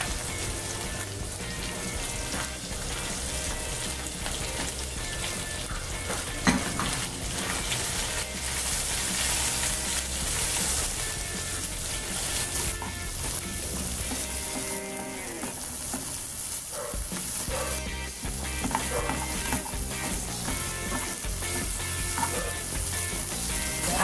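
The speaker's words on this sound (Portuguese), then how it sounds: "a gente vai colocar essas cebolas aqui, que a gente não mostrou no início do vídeo, mas a gente vai usar" Onions frying in a pan for a macaroni dish, producing a loud, continuous sizzle and crackle with occasional stirring clatter, close and steady throughout with no voices.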